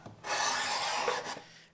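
A hand tool rasping along a wooden board edge to cut a small chamfer at a workbench, one close, steady stroke lasting about a second and a half.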